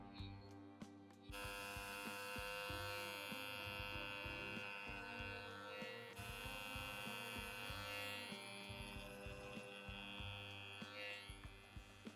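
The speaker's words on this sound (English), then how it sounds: "Let's shave our toes, shall we?" A buzzing electric razor runs steadily for about twelve seconds while shaving toes, a continuous close mains-like hum with the pitch shifting slightly as the blades press on skin, starting after a brief quiet moment.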